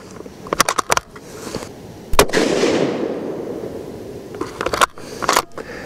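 Ruger American Predator Gen 2 .223 rifle fired at a range, one sharp close report with a rolling tail, surrounded by clicks and handling of the rifle and no speech.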